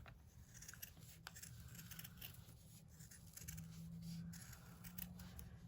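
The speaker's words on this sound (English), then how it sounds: "this time I'm only cutting through 3 layers" Scissors cut through three stacked layers of paper for a papercraft flower: repeated soft snips sound close but faint over a steady low background hum, and no one speaks.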